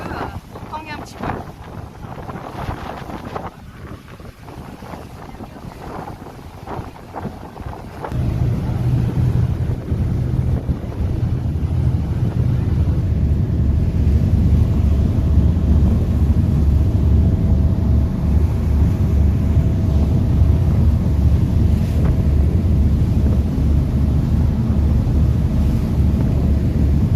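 Strong wind buffets the microphone on the upper deck of a passenger boat heading out from Marseille toward the Frioul islands, a loud continuous roar over a low engine drone, with someone talking through it.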